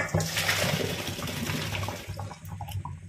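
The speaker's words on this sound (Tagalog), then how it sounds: "Drain natin yung ating pasta." Water gushes and splashes as cooked pasta is drained, a loud close pour that gradually eases over a few seconds.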